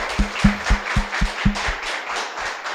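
A small audience claps to welcome a new teacher at an online batch launch for CSIR NET/JRF researchers, with a short run of steady, evenly spaced claps that soon thins out.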